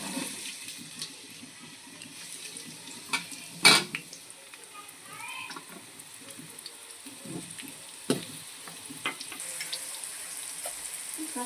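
Onions frying in about four tablespoons of hot oil for Andhra fish curry, a soft, steady sizzle with occasional stirring clatters, close and moderately quiet.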